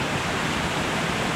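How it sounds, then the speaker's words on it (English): Waterfall cascading into the Salmon River near the Comstock Bridge in Connecticut, a steady, loud broadband roar of rushing water with no pauses, close to the microphone. "Nice cascade down into the Salmon River where all the fishermen are by the Comstock Bridge"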